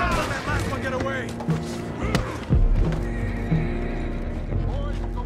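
Horses neighing in a video game western shootout, loud repeated whinnies close by with hoof clatter, sharp cracks and a heavy thump around the middle, and voices talking over the commotion.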